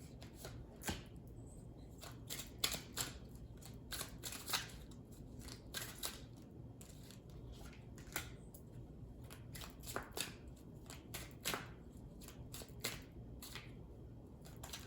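Repeated crisp riffling and snapping of playing cards being shuffled, close and fairly quiet, in irregular bursts with no voices.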